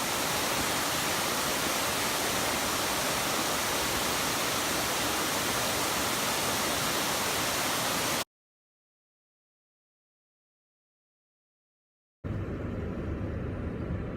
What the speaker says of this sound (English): this was a 2-part waterfall